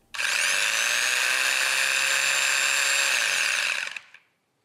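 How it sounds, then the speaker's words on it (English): A Festool electric sander runs steadily with a high, even whine for about four seconds, then spins down and stops. "So here I'm simply sanding up and down."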